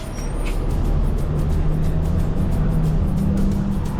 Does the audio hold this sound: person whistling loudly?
no